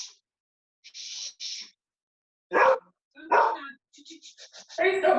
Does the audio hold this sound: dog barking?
yes